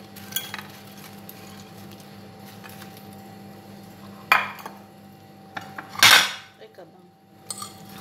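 Metal utensils clink and scrape against a pan or bowl as oven-baked fries and shrimp are tossed together, with a few sharp clatters and one louder scraping burst standing out over a quiet background.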